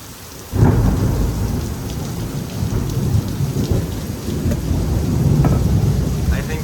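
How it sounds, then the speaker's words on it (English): Thunder rolls and rumbles loudly through a lightning storm in Houston, Texas, with steady heavy rain hissing throughout after a sudden onset near the start. "I think the lightning's actually coming more north."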